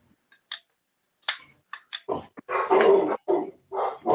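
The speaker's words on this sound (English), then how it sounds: "Lord, the dogs are going after it." Dogs bark and growl in a scattered outburst, starting with a few short, distant yips and building into a louder, denser run of gruff barks and snarls as they go after something.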